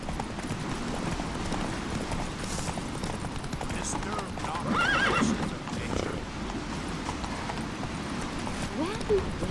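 Roach, Geralt's horse in The Witcher 3 video game, gallops in steady clip-clop hoofbeats with occasional whinnies, over game music and background action while a voice speaks.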